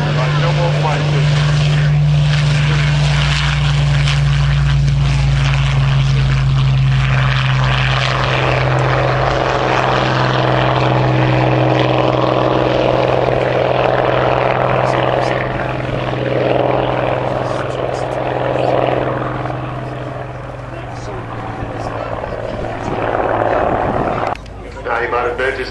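A Merlin-engined warbird flies past at Cosford Airshow, its loud propeller-engine drone building and holding and then fading. A commentator talks over it throughout.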